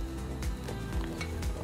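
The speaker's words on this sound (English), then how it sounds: "we're gonna saute our vegetables for just a few minutes" Vegetables sauté in hot olive oil in a pan for salmon pesto pasta, with a soft, steady sizzle and a few light clinks of utensils against the cookware, fairly quiet.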